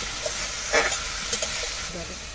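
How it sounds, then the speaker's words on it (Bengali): Spice paste thinned with a little water sautés and is stirred in a pan for a Bengali rohu fish curry, a steady soft sizzle with a few brief scrapes and clinks close by. "এই জন্য একটু জল দিয়ে একটু কষিয়ে নিচ্ছি।"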